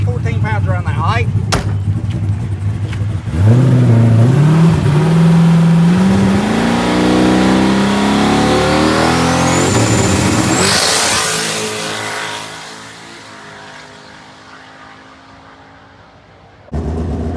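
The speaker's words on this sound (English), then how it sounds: "Hold the brake until it makes about 14 pounds of boost." A car engine revs hard at the track while the driver holds the brake to build about 14 pounds of boost, rising in pitch for several seconds before dropping off, loud and close, with a brief return near the end.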